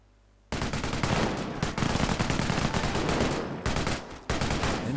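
Heavy gunfire in a Company of Heroes battle, with dense machine-gun bursts and rifle shots that start abruptly after a near-silent moment and keep going at close range with a short break near the end.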